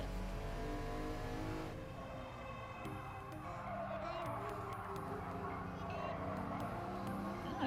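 Game engine noise from a BMW M3 E46 or RUF CTR3 in Gran Turismo Sport, a steady rising and falling drone running throughout at moderate level, with a person talking over it.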